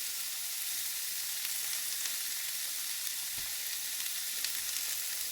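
Pastrami and cabbage sizzling in a pan, a steady close hiss of frying that runs unbroken throughout, with a few faint clicks and knocks beneath it and no one talking.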